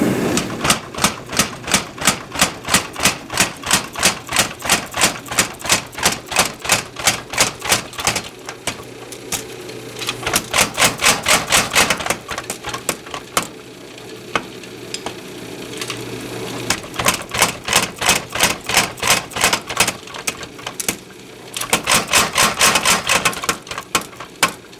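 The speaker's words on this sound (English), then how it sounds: "commence the hammering." Steel bars heated for custom knife forging are struck with a hammer in rapid, rhythmic bursts of sharp metallic blows, several runs of dense hits separated by brief pauses and a low steady hum.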